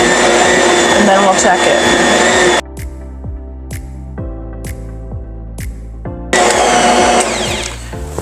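Stand mixer kneading cinnamon roll dough made with Khorasan flour, a loud steady motor whir that drops to a quieter rhythmic thumping for a few seconds, then resumes at full volume, with a person speaking briefly over it.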